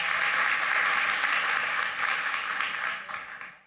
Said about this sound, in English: Give a round of applause again for coming up.